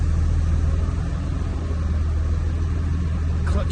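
A rebuilt 5.9 Cummins diesel engine runs steadily in a truck, giving a loud, continuous low rumble with an even idle-like drone throughout and no talk over it.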